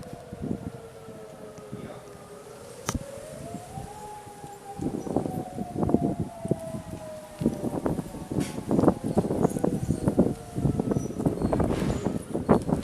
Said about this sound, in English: First time recording the siren off of this.